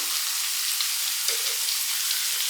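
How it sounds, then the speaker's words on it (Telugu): Ginger frying in hot oil for a chicken biryani makes a steady, bright sizzle with fine crackling throughout, close and even, with no voices. "ఈ అల్లం వేగేటప్పుడే మనము కారం కూడా యాడ్ చేసుకుందామండి"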